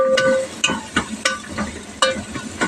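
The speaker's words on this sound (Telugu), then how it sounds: "గిన్నె కదిలిపోతుంది, పట్టుకొని తిప్పేద్దాం" Masala being stirred and scraped in a cooking pot with turmeric and browning onions, the spoon knocking the pot in irregular clinks and scrapes over a soft frying sizzle, close by with no talk.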